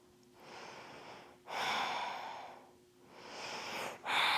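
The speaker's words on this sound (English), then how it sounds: "Return to your Ujjayi pranayama breath. Long inhales, long exhales out the nose." Ujjayi pranayama breathing during a vinyasa yoga flow, slow, long inhales and exhales through the nose, three drawn-out breaths with a fourth starting, close and soft with no talking.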